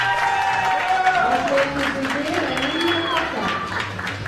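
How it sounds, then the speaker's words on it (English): A crowd applauds a powerlifter entering the arena at the IPC Powerlifting European Open Championships in Eger, with steady clapping running beneath a commentator's voice. "Well, you heard the applause"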